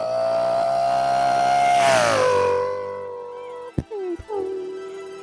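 A man imitates the high-revving V10 of a Lexus LFA with his mouth, a sustained engine-like drone that climbs and then drops in pitch, ending with a few short sputtering blips, heard alone and close.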